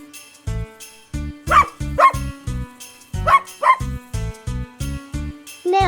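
A dog barks in a quick series of sharp, loud, close barks in uneven bursts, some with a whiny, yipping edge, standing alone against a quiet background.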